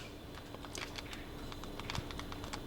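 Sharp little clicks from the buttons of a Razer Kishi V2 mobile game controller, pressed in a quick irregular run, close and fairly quiet against a faint steady background hiss.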